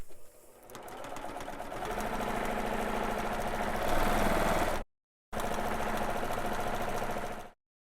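A sewing machine stitches quilting lines, running in a fast steady mechanical whir for several seconds, pausing briefly, then starting again before stopping.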